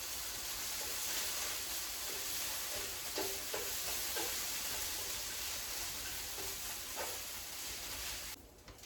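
Pancakes and hash browns fry in a pan with a constant broad sizzle and a few soft stirring scrapes, until the sound drops away abruptly at the end.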